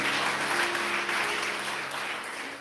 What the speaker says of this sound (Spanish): Vamos, dale una ofrenda de palmas al que vive.